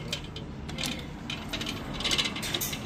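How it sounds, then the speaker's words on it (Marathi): Metal ratcheting clicks from a wrench tightening the center nut on a motorcycle's rear shock absorber during final assembly, a quick run of close, crisp clicks coming in short bursts over light workshop background. "शॉकअपचं सेंटर शॉकअपचा नट निलेश भाऊ बसवत आहे बघा."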